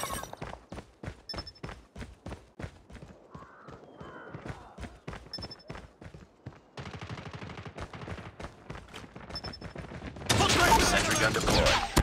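Rapid bursts of automatic gunfire from a deployed sentry gun in the mobile shooter Call of Duty Mobile, in a Frontline match, crackling in fast regular volleys with a dense louder burst at the end.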